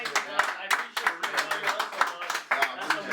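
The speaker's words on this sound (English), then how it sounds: "I really want to give you a shout out and a round of applause from everybody in here" A handful of people in a room give a round of applause, loose, uneven hand claps with sharp individual hits, over and between people talking, close and moderately loud for about three seconds.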